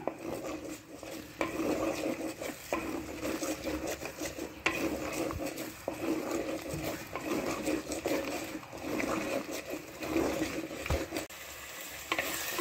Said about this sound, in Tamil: இப்போது இது நல்லா அந்த ஆயில் கூட நல்லா இதை வந்து ஃப்ரை பண்ணுங்கள்.